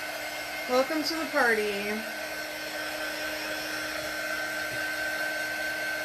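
A hair dryer blows on fresh paint on a mason jar, a steady close whir that runs the whole time, with a brief burst of voices near the start.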